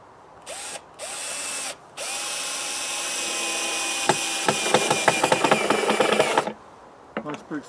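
A power drill drives a large screw into wood to reattach a garden hanger outdoors, running in several bursts of rising whine, then a longer steady run broken by rapid clicking knocks as the screw seats, ending with a few light taps.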